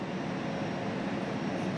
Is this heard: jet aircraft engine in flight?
yes